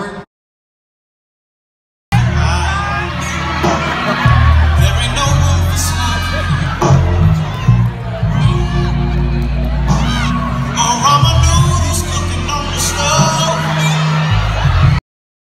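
A crowd at a university fashion show with a decades theme erupts after a brief silence into loud, sustained cheering, whoops and yells that continue for more than twelve seconds.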